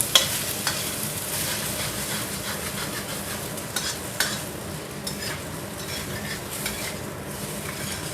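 Steady sizzling of eggs being scrambled in a frying pan, with occasional light scrapes and clinks of a utensil stirring; no voices.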